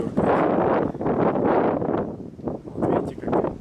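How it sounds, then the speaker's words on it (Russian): Heavy wind roars against the microphone on a motorcycle ride between Kyiv and Gdansk, a loud steady rush with gusting swells that fills the whole moment. "Вот видите, как ветер сильный."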